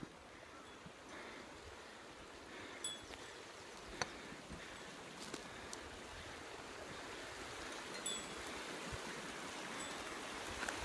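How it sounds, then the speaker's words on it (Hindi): Mountain water forced under pressure through a channel beside the snowy road to Bharmani Mata Temple near Bharmour, Himachal Pradesh, makes a steady, faint rushing hiss throughout, broken by a few soft ticks. "देखिए वही पानी है, प्रेशर से यहाँ से जा रहा है लेकिन नीचे कहीं पे भी नहीं निकल रहा।"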